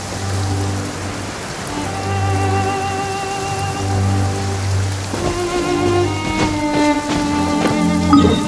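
Steady rain patters continuously on surfaces in the video game Genshin Impact, set around Mondstadt, with a low repeating tonal hum and soft musical notes layered over the rainfall throughout.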